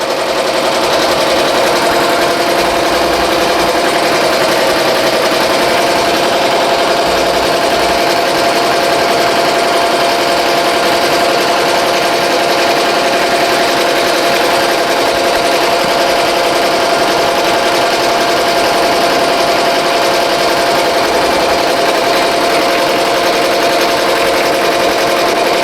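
A BAI Mirror 1501 embroidery machine stitches a sketch design onto a T-shirt with a loud, close, steady rapid clatter and hum that runs unbroken throughout.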